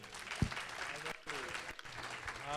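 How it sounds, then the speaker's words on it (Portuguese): A church congregation applauding during a missions service, a steady wash of clapping with faint voices mixed in, fairly quiet and continuous. "Vamos aplaudir nosso Senhor."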